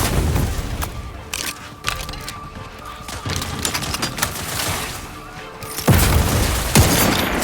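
Gunfire in The Outer Worlds 2 on Xbox: rapid bursts of shots and heavy booming impacts with crashes, dense and loud, swelling into louder blasts near the end.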